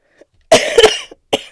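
A single loud, close cough, a harsh burst followed by a rough rasp, then a brief short hack after a pause.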